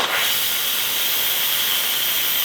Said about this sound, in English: And I'm gonna relieve the pressure.